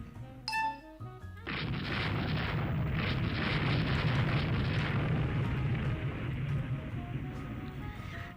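A torpedo strikes an armoured cruiser during a naval battle in a strategy game, a brief chime giving way to a sustained, loud, rumbling roar of explosions that holds steady throughout.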